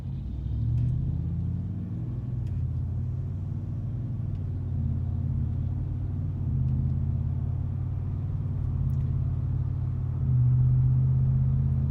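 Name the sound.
Ford F-150 5.0 Flowmaster Super HP2 exhaust cabin drone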